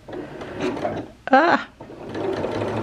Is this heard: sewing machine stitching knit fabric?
yes